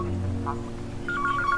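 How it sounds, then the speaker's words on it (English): A house telephone rings in short repeated electronic trills over a steady background hum, fairly faint and partly buried. "Hang up your fucking house phone."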